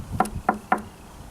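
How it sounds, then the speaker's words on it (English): Three close knocks on the wooden cabinet of a JBL PRX715XLF subwoofer, crisp hollow raps spaced about a quarter second apart, near and alone. "That's a wood cabinet, by the way. So you can knock on wood with that JBL."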